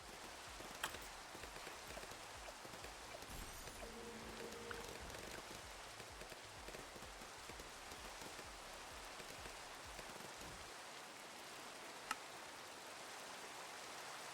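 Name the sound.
rain in a video game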